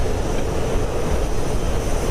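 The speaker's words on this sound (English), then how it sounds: "This is a pretty fast aeroplane." A fast fighter aeroplane in the flight simulator DCS World, heard as a steady, loud jet engine roar that stays constant throughout with no break.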